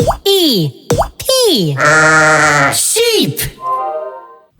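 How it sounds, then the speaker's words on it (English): A cartoonish sheep bleats in a children's animal-sounds learning song, several wavering bleats in a row with a long sustained one in the middle, loud and close, alongside a bouncy plop effect. "Surprise! Sheep!"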